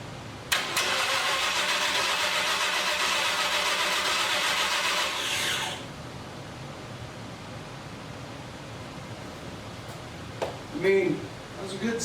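A 1979 Ford F100 truck engine is cranked by the starter, grinding loudly for about five seconds before catching, then settles into a rougher idle as a voice speaks briefly near the end.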